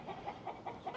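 Backyard coop chickens clucking in a steady, repeating rhythm of short calls about every fifth of a second, moderately near and fairly quiet, with no talking.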